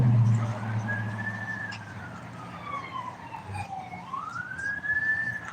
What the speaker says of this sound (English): we got ambulances.